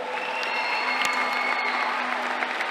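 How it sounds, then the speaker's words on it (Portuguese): An audience at a school cross-country opening ceremony applauds with dense, continuous clapping throughout, moderately loud and evenly sustained, with a faint tonal hum beneath and no speech over it. "Uma salva de palmas para ele."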